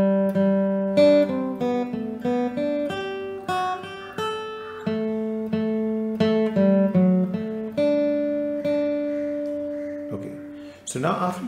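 A guitar plucks the lively, bouncing Sailor's Hornpipe melody note by note in a steady dance rhythm, played alone and close, ending with a brief scrape.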